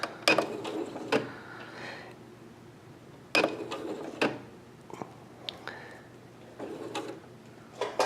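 Home sewing machine stitching fabric pieces for an inset Y seam, heard as two short bursts of rapid mechanical clatter separated by quieter clicks and handling knocks, close by with no talk.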